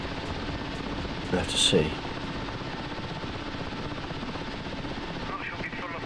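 Chinook helicopter in the flight simulator DCS World, a steady faint rotor and engine drone throughout, with a brief louder burst and a voice speaking briefly over it.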